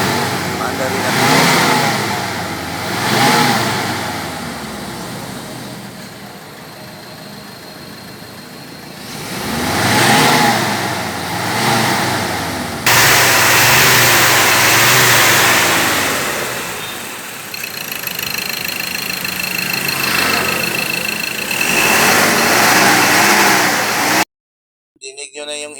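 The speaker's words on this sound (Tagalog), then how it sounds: "Dinig nyo na yung engine at saka yung tambutse, wala nang masyadong carbon deposit na ibubuga." A 2014 Ford Ranger with low power and thick black exhaust smoke, engine and exhaust droning loudly during a road test, rising in surges of revving with steady road rumble, close to the microphone.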